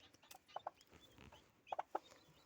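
Several short, high-pitched peeps come in small clusters over a quiet background, the faint calls of a newly hatched guinea fowl chick.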